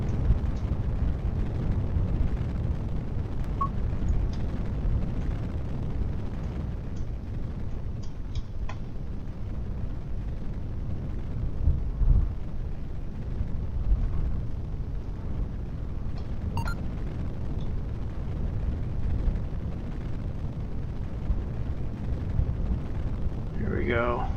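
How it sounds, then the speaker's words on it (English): A rocket engine fires during a landing in Kerbal Space Program, a continuous deep roaring rumble lasting throughout, with a person talking over it. "I'm going to try to land this rocket now"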